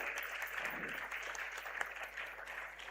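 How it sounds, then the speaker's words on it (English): An audience applauds to welcome the SEBI chairman onto the stage at a corporate bonds outreach event, a faint, distant wash of clapping throughout. "Let's welcome him with a thunderous round of applause,"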